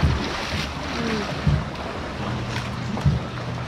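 Rough sea at high tide washes against the shore of a small island village where boats are moored, a continuous wind-blown surf rumble with a few heavier wave thumps, no speech.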